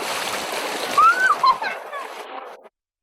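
Water splashes as a woman bathes in a river, a burst of nearby splashing and sloshing with a brief vocal sound over it, then it cuts off abruptly.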